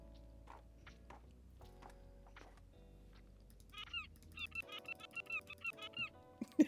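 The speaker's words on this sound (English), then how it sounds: "this one actually sounds like a seagull" Seagulls in the Tiny Bookshop video game give a run of short honking, peeping calls that grow louder and more frequent toward the end, following quieter soft game tones and ambience.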